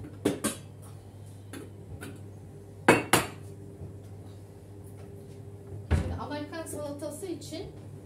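Small cooking pot being taken from a kitchen cupboard: sharp metallic clanks and clatters come in brief bursts, with a low hum running underneath and a person speaking near the end.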